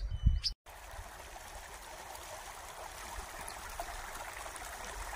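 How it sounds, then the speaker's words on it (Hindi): A low-flowing river with somewhat murky water gives a soft, steady rushing murmur heard from close by, after a brief handling knock at the start. "सामने नदी है।"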